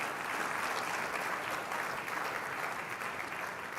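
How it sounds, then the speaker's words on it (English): An audience applauds at a talk event, a dense, steady wash of many hands clapping that holds at an even level from start to finish with no voices over it. "A round of applause."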